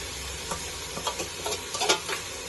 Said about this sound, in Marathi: आता मी ऍड करते आपला मॅरिनेट केलेला सोयाबीन